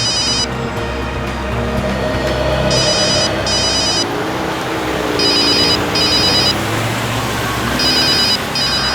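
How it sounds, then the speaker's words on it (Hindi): A telephone rings in short repeated bursts of bright electronic trills over a loud, steady background rumble, with several clear rings spread across the stretch and no talk. "सर आपका फोन लग रहा है।"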